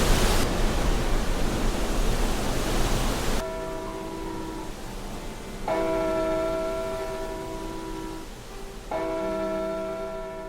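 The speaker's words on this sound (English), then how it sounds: "This one has a bell in there." A bell inside a model church building rings with clear, sustained metallic strikes that ring out and decay, heard in a few repeated tolls after a burst of hissing noise, no voices.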